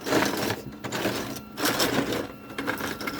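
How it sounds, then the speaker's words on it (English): A 3D printer prints plastic strawberry dragons and other small items, whirring and clicking in a busy mechanical rhythm with brief pauses, close and steady with no voices. "So I've been keeping the printer busy."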